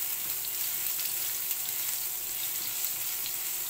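Garlic frying in hot cooking oil as the first aromatic, a steady bright sizzle holding at even level throughout with no voices.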